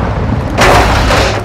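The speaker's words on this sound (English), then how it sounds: "Breaker, I have missiles incoming." Missile air strike explosions in Call of Duty: Modern Warfare II, a loud sustained roaring blast that swells suddenly midway and rumbles on without talk.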